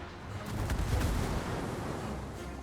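Naval guns firing in the World of Warships game, with dense, overlapping booms clustered near the start and a rumbling barrage that continues steadily at moderate loudness.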